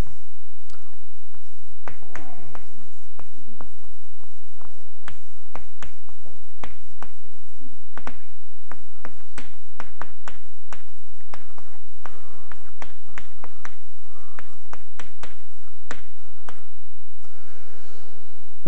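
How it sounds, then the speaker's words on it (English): Chalk or marker tapping and scratching on a lecture-hall board in irregular strokes and clicks, close and fairly loud, with no speech. "I need to write up something here."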